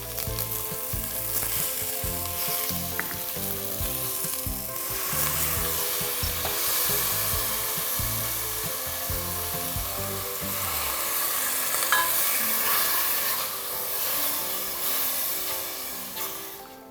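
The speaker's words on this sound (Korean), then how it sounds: "국간장과 간, 들깨, 채소를 넣고 자작하게 볶아줄 건데요" Soaked dried vegetable namul stir-fried in a pan with soy sauce and perilla, a steady close sizzle with scraping stirs throughout and no talk.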